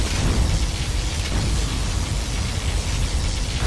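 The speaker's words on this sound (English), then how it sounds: "A particle cannon has been activated." A particle cannon blast in the real-time strategy game Command & Conquer Generals: Shockwave: a loud, sustained, roaring rumble of explosive noise that holds steady throughout, with no voices.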